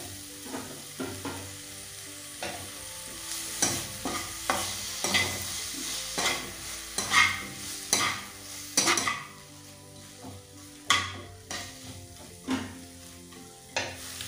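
A spoon stirs and scrapes tamarind with turmeric around a frying pan, giving irregular clattering strokes over a soft sizzle that grow busier midway and then thin out.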